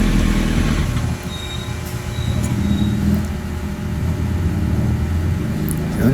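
A 2007 Yamaha R1 engine runs with its two radiator fans whirring, a close, steady mechanical hum and whir with a brief dip near the start.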